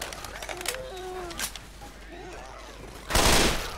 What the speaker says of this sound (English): Nick, I know that was you shooting.